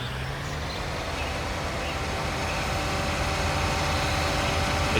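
A tractor engine in Farming Simulator drones steadily for several seconds, a low even rumble at moderate level with no speech over it.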